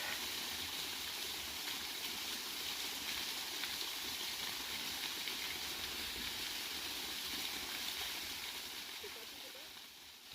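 A waterfall pouring out of a small lake beside an old monastery site and spring: a steady, broad rush of falling water, fairly close and unbroken, easing slightly at the very end, with no voices.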